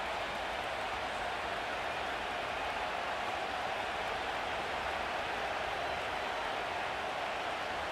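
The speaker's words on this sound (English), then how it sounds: "This crowd into it now as we get to 3rd down" Steady roaring stadium crowd in the football video game Madden 25, a dense, continuous wash of cheering at even loudness with no breaks.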